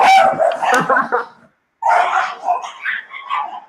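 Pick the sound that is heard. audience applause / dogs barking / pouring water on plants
dogs barking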